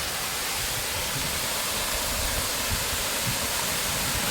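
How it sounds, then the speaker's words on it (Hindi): Water rushes steadily through a stream inside the Bhairavnath cave, a continuous close, dense hiss of flow with no breaks and no voices. "कितने सालों से ये पानी बह रहा है"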